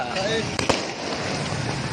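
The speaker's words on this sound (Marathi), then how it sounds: "अर्धापूर शहरामध्ये फटाके वाजवून जल्लोष साजरा करण्यात येत आहे" Firecrackers burst during a street celebration in Ardhapur town, a dense crackling roar with one sharper bang, heard amid noisy outdoor crowd sound and voices.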